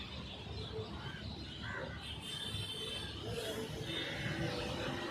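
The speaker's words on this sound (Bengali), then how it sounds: "এত পাখি কিচিরমিচির করছে," Many birds chirp and twitter together on the Mandovi riverside in Panaji, Goa, a dense, continuous chatter at moderate distance over a low outdoor hum.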